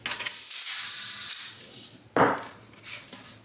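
Air and sealant hissing out of a freshly inflated tubeless road bike tire as it seals, two close spraying bursts, the first long and the second short and sharp.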